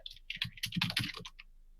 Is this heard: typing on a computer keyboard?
yes